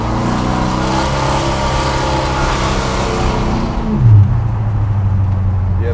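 A 600-horsepower big block engine in a 1976 Buick Electra Custom revs loudly and steadily from inside the car, its deep rumble rising and then dropping into a lower drone near the end.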